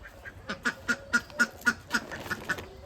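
Domestic ducks brought home tied together quack in a steady run of about ten loud, evenly spaced calls, close by and clear, with no talking over them.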